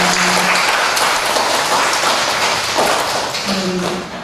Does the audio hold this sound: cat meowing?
no